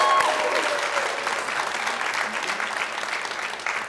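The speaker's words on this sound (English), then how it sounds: "Let's give one more round of applause for all of our candidates." A crowd at a Boys & Girls Club Hall of Fame evening in Nashua, New Hampshire applauds the candidates. The clapping is full and sustained, loudest at the start, then easing slightly, with a few voices mixed in.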